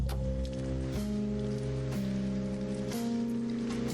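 Rain patters steadily on city streets in the video game Backbone, a constant hiss under a low musical drone whose tone shifts about once a second, with no speech.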